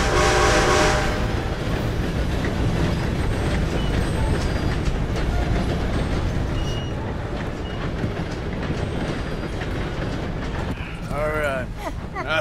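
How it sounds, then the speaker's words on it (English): A train passes in Red Dead Redemption 2, loud and close with rumbling wheels and rail clatter, a horn blast at the start and a whistle near the end, mixed with game speech. "Gotta beat that train, Morgan."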